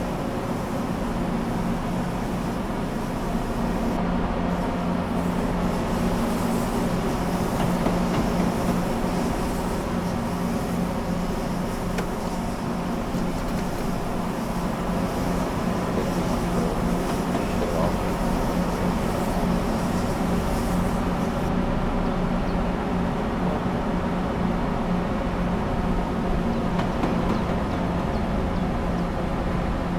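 A CSX 3GS-21B Genset diesel switching locomotive in Train Simulator Classic idles with a continuous, moderately loud engine drone and rumble that holds steady throughout.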